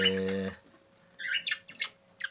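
Budgerigars in a newly fitted nest box give short, scratchy chirps and calls, a few brief bursts near and moderately loud, following a short tonal hum at the start.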